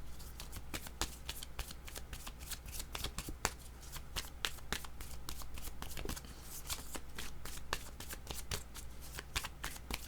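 Tarot cards are shuffled continuously and close up, making a dense run of crisp flicking card snaps for about ten seconds with no one talking.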